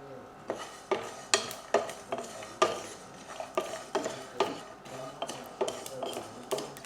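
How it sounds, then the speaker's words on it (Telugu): Sesame seeds and dry coconut roast in a pan while a utensil stirs them in a steady, rhythmic series of about a dozen close scraping clinks over a soft background hiss. "ముందు దీన్ని ఇట్లాగా వేయించుకుందాం కొంతసేపు"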